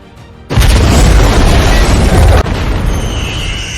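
A loud explosion at an international primary school bursts in with a deep rumbling boom, roaring steadily before dropping to a lower lingering rumble.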